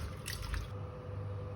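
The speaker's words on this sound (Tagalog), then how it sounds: "lagyan natin ng konting tubig para yung asin matunaw" A little water splashes and drips into bitter gourd (ampalaya) being salted in a home kitchen, a few soft, close drips and trickles over a low background hum.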